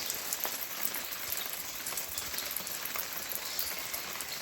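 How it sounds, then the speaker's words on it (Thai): Rain falls steadily around a home with a flower garden, a dense, even patter of drops that hisses constantly at moderate volume, with no talking. "ฝนตกมาแล้วเย็นจังเลย เย็นมากมาก"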